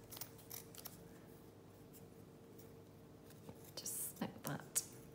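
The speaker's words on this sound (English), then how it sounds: "So just cut down a tiny piece." Scissors snip a tiny piece of lace for a junk journal stitched cluster, a few quiet close cuts with soft rubbing and handling of paper and fabric, plus faint low voice.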